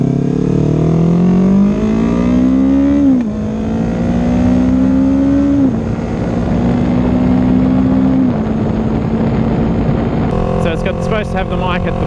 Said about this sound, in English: I was trying to get sound of the exhaust while I'm riding around